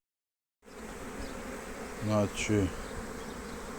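Honeybees swarming up over the frames of an opened hive during an inspection, a steady close buzz throughout with a couple of brief louder bursts as bees fly near; a few spoken words occur.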